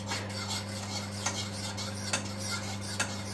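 Gravy stirred in a pan with a utensil makes soft repeated scraping and clinks over a steady low hum, close but quiet, with no speech.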